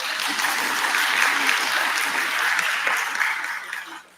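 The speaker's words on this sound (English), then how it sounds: "I'm sorry, I'm not used to claps" A meeting audience gives a burst of dense, sustained applause lasting a few seconds before tapering off quickly.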